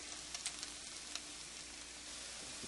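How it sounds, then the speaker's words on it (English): An egg fries in a pan beside hash browns, giving off a steady, quiet hiss with a few small pops and crackles. "I like to finish them off with a fried egg"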